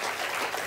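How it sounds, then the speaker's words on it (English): Studio audience applause for paramedics seated in the front row of a cooking show, a dense continuous wash of clapping, fairly soft and brief. "can we have give them a round of applause there?"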